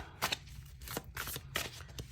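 Tarot cards shuffled by hand in a quiet room, a few quick riffling bursts close to the mic with short pauses between them.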